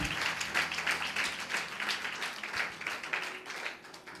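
A church congregation claps together in a steady rhythm in praise, moderately distant, with a low hum and faint voices underneath.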